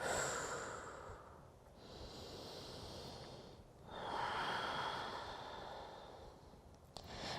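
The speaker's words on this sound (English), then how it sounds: "Keep breathing, hold on to your center." Slow, steady breathing during a home yoga session, with long audible inhales and exhales in a soft, close, even rhythm and no talking.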